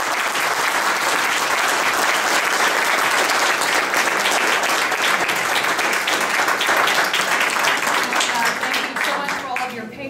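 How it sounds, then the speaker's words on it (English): A debate audience gives the candidates a long round of applause, dense and loud clapping sustained throughout with a crowd roar and faint voices mixed in, tapering slightly near the end. "give all these candidates a big round of applause"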